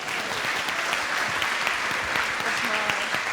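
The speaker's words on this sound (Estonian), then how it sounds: "Okei, teeme aplausi." An audience at a mental health fair's forum theatre performance breaks into steady, dense applause that runs throughout, loud and close, with a faint murmur of voices beneath.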